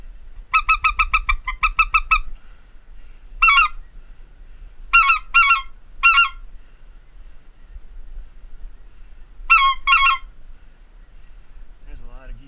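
Bursts of nasal honking from a flock of geese at an Arkansas duck and goose hunting pit, some rapid runs of calls and some short pairs, spaced apart with quiet wind rumble between.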